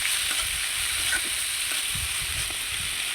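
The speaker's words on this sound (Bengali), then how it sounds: "এটাকে একটু ভাজতে হবে।" Potatoes, onions and green chilies fry softly in a pan for a small-fish chorchori, giving a faint steady hiss with light stirring scrapes and no voices.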